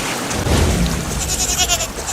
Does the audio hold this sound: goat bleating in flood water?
yes